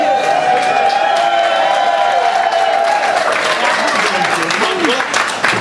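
A crowd applauds and cheers loudly as a performer is introduced, dense continuous clapping with whoops and shouts rising and scattered voices mixed in.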